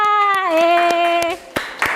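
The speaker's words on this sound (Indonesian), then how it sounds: "kita kasih tepuk tangan untuk Aksa" A class applauds a student during a lesson: sparse, scattered hand claps ring out while a voice speaks, then a few separate claps follow after the talking stops.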